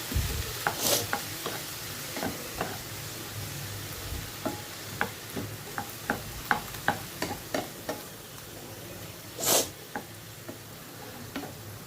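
Broccoli rice frying and being stirred in a pan: a steady low sizzle with repeated close scraping and stirring strokes, plus two louder, brighter bursts of hissing.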